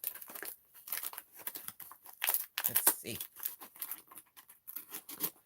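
A heavily cocooned yarn package being torn open and unwrapped at home, loud close crinkling, ripping and rustling of plastic and paper in rapid bursts, with a person speaking briefly over it.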